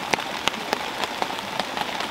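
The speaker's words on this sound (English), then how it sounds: "Well, the rain's coming down now." Rain pattering in woods in Wales, with a steady wash and sharp, irregular drips landing close by, no voices.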